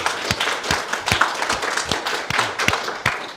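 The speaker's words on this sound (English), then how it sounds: "We want to give you a big round of applause for what you do." An audience at a community public meeting in Canberra claps for local police, a sparse, moderately loud round of applause with scattered individual claps in a room.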